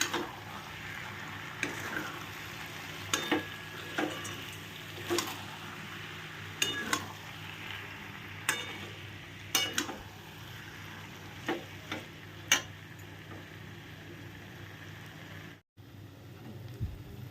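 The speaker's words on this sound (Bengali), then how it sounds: "নিয়ে হালকা হাতে নাড়তে থাকো" Sago mixture stirred gently in a pan over a steady low sizzle, with intermittent soft clinks and scrapes of a utensil against the pan at irregular intervals.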